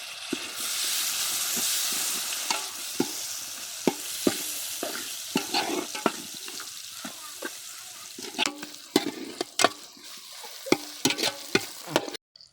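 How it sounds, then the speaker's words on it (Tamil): Onions and tomatoes sautéing in a pan for a village-style dry fish curry, with a loud continuous sizzle at first that eases off while sharp utensil scrapes and taps repeat through the stir-frying. "வெங்காயம் தக்காளி எல்லாம் நல்லா வதங்கிடுச்சு."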